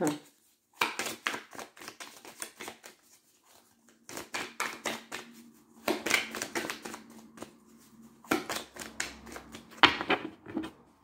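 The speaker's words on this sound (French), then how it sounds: "Je vais faire une petite coupe." A deck of tarot cards being cut and handled, with bursts of quick crisp card flicks and riffles in several clusters separated by brief pauses, fairly close and quiet.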